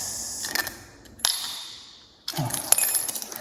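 Metal house keys clink and rattle as they are dropped into a real estate lockbox, a few sharp jingles followed by a brief clatter, close and fairly quiet with no talk.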